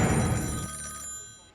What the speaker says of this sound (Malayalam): ഓഹോ, ദാ വീണ്ടും ഫോൺ വന്നല്ലോ.